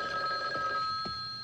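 A telephone rings indoors in a 1987 French television episode, a sustained electronic bell tone with a steady pitch holding through the short stretch at moderate level, with no voices over it.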